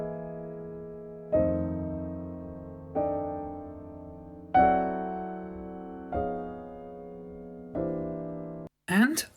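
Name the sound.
piano recorded with old AKG C12 microphones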